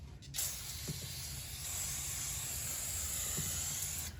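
Brake parts cleaner sprayed from an aerosol can onto a Husqvarna/KTM four-stroke engine with a countershaft oil leak: one steady, loud close hiss lasting about four seconds, with a faint low rumble underneath.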